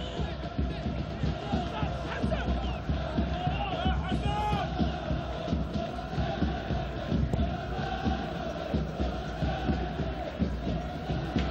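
Fez football fans in a stadium keep up a constant roar of chanting and drumming, a dense crowd din running steadily under a commentator's voice.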